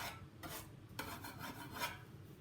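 A tool scraping across the surface of a clay wreath to add texture, giving three or four short, dry rasping strokes close up, each lasting a fraction of a second with brief pauses between them.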